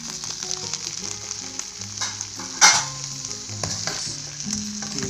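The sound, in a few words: stirring eggplant frying in pan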